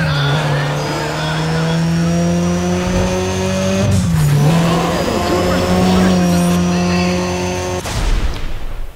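Race car launching from the line in Need for Speed ProStreet drag racing, engine roaring loud and steady with rising gear-pitch sweeps and tire squeal, shifts audible midway.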